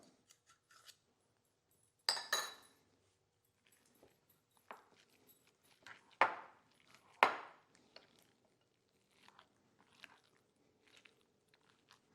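Party dip ingredients being mixed with a utensil in a bowl: scattered wet scraping and squelching strokes, several louder bursts among quiet gaps, close and fairly faint.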